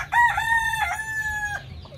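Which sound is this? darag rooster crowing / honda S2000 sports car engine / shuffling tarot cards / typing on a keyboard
darag rooster crowing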